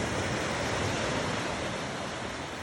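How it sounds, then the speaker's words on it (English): Ocean waves rolling in at Kin Beach on Vancouver Island at night, a steady wash of surf with a little wind noise, unbroken throughout. "You can hear the waves coming in."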